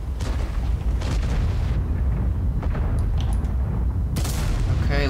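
Heavy tank cannon blasts from World of Tanks, deep booming shots punctuating a dense, rumbling battle soundscape, with one sharp, loud report near the end.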